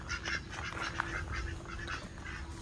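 Ducks quacking in a pond near a village, a continuous cluster of nasal calls heard from a short distance with steady outdoor background noise.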